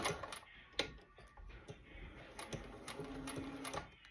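A vintage Singer 201 sewing machine back stitches on a designer garment, giving a short, fairly quiet run of fast mechanical ticking that holds steady for a few seconds.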